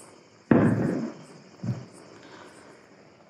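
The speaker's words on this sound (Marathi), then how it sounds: "फटाके बहुत मस्त सुरू आहे" Festival firecrackers burst at a distance during the Diwali season: one sharp, loud bang with a rumbling tail, then a second smaller pop and a faint crackle.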